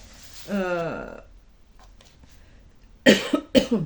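A sharp cluster of coughs bursts out near the end, two or three harsh hacks close together, after a drawn-out voiced sound earlier.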